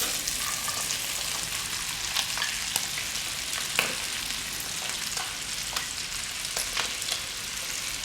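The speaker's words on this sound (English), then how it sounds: "Add our vegetables and fry together." Vegetables frying in a pan with browned chicken hearts and gizzards, a steady close sizzle with occasional louder pops and crackles throughout.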